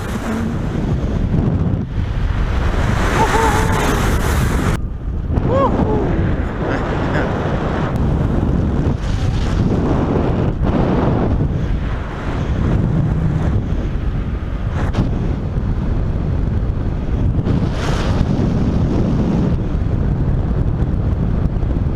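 Strong steady wind roars across the microphone while paragliding over the Black Point coast in South Australia. The rush is continuous and loud, with gusty surges and no voices.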